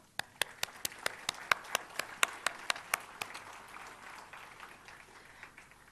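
Sparse applause at a university convocation: a few distinct, sharp hand claps in a quick regular rhythm stand out over a thin wash of wider crowd clapping that fades toward the end.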